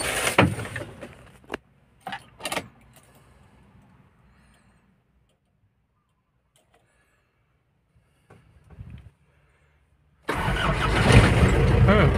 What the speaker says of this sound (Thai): สตาร์ททีเดียวติดเลยนะ